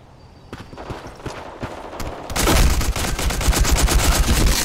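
Rapid gunfire from the online shooter game Black Squad, scattered shots at first, then dense, loud automatic bursts.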